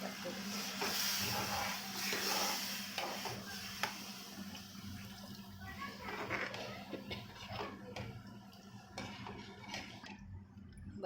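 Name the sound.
water poured into hot pan for vegetable, hissing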